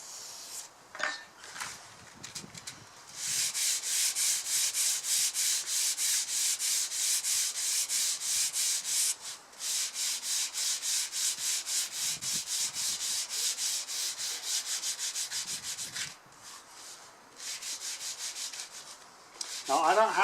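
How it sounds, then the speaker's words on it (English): A sanding block rubs briskly over a wooden model aircraft wing in long, rhythmic back-and-forth strokes, pausing briefly a few times before resuming. "The sanding block now, I think."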